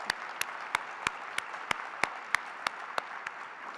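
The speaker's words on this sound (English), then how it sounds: "I think it is a round of applause time," An audience at an IMF panel on digital public infrastructure applauds, a broad wash of clapping cut by sharp, evenly spaced claps about three times a second.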